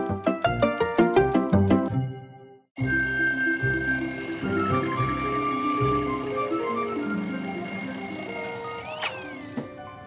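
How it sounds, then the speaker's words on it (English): Cartoon alarm clock ringing: a quick run of rapid mechanical bell strikes, then a sustained, loud jangling ring with bright tones and a rising whistle-like sweep near the end, alone without speech. "Whoever invented the alarm clock should be dragged into the street and beaten."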